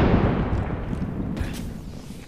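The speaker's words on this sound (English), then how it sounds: "Throwing grenade." A grenade blast in a shooter video game, a loud, rumbling low-end boom that fills the clip and slowly fades, with a brief crackle of debris partway through.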